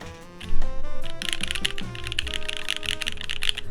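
Rapid typing on a Keycult No. 2 stainless steel keyboard fitted with Meteor White switches, a dense run of crisp clacky keystrokes over a musical background, with the typing starting after a brief pause.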